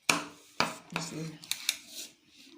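Scissors snip through a short sleeve block pattern in a series of sharp, close cuts, several quick crisp strokes followed by a softer rubbing of blade and paper, with faint voice in the background.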